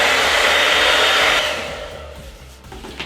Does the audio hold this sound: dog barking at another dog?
no